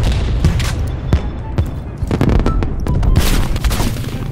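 Rapid bursts of gunfire and booming explosions fill a Call of Duty: Cold War multiplayer match, loud and close, with dense overlapping shots throughout.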